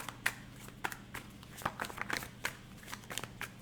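Tarot cards being shuffled by hand during a reading, a quiet irregular series of soft riffling snaps and taps, close and alone.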